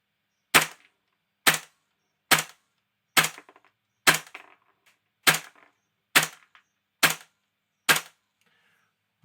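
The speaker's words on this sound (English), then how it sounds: "Right, so we've fired another 20 round." A rifle firing from a modified magazine, nine sharp, loud single shots spaced about a second apart, each one dry and crisp with a short decay, and no talking.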